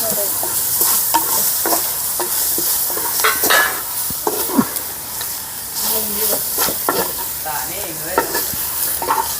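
Crushed ginger and garlic sizzle loudly with spices in a village cooking pot for a beef recipe, a close, constant hissing fry broken by repeated scraping strokes of a stirring spoon.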